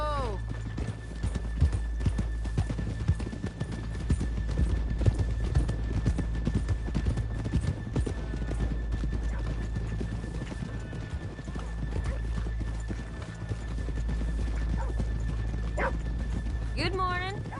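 Horses' hooves clip-clop steadily in a PS4 video game, with a horse snorting or whinnying and characters' voices speaking over a low constant background rumble.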